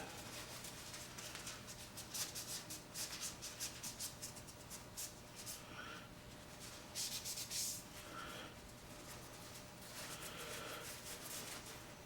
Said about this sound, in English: Find a nice clean spot on my paper towel, and I'm going to go over that ricasso one more time.